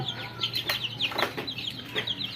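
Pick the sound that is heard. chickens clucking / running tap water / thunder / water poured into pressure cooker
chickens clucking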